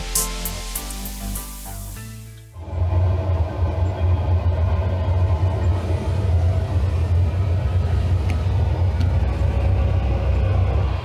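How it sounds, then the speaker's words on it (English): Traffic on a highway right beside a campsite near Edmonton: after a brief tonal sound at the start, a loud continuous roar of passing vehicles sets in and holds steady, with no talking. "It is right beside the highway, so it might be a little bit noisy."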